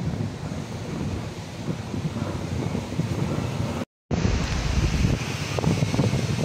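Strong wind roars steadily across the microphone beside a strong water current, a loud continuous buffeting rush with a brief dropout midway.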